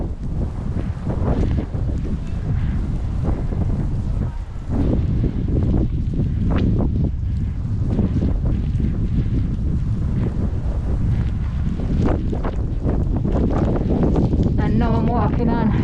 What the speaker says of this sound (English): I'm not sure of the mileage that the wind is blowing